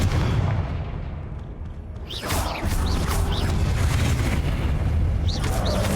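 A Confringo spell explodes in a Hogwarts Legacy battle, a deep booming blast at the start that turns into rumbling, crackling effects with sharp whooshing spell sounds.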